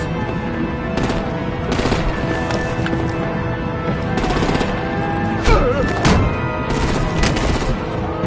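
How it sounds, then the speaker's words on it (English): Artillery and gunfire in the Batman: The Enemy Within video game, with repeated bursts of heavy shots and booms over a rumbling, dense battle background, loud and continuous. "Break out the artillery and disable their vehicles!"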